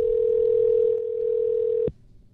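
A telephone call rings out on the line: one steady, clear tone holds for about two seconds and then cuts off abruptly, with no voices.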